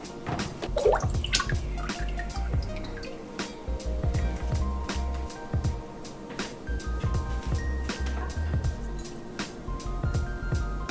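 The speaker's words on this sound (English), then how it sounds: "Grab some of the wort and just slowly pour it into the strainer." Homebrewed beer wort poured slowly into a strainer gives a continuous trickle with rapid drips and splashes, close and fairly loud.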